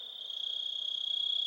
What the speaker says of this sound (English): Crickets, I'm outside.